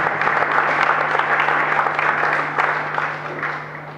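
Congregation in a church service applauds together, a dense, sustained clapping that gradually fades over a few seconds.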